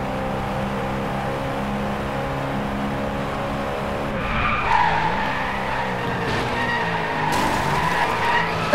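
Car in the racing game Driveclub drifting through a turn, engine droning steadily with rising tire squeal and skidding in the second half, close and loud with no talk over it.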